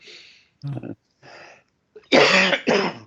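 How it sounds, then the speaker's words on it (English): A person coughs and clears a dry throat indoors, a few short rough bursts separated by silences, ending in two louder harsh coughs close to the microphone. "Throat's getting a bit dry. That's all. Make me cough."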